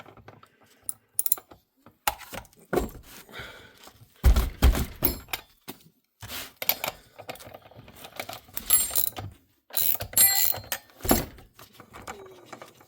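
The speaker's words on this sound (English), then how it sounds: "let's take our spark plug socket because that'll probably do it" A spark plug socket wrench working the spark plug out of a STIHL 064 chainsaw, giving irregular metallic clicks, clanks and ratcheting knocks in short close bursts separated by pauses, without speech.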